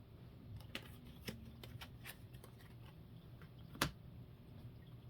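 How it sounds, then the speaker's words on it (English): A deck of cards is shuffled at a tabletop board game, producing quiet, uneven papery riffles and taps, faint and close over a low room hum. "now we shuffle this one back into the fate deck"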